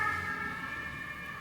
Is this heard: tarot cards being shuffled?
no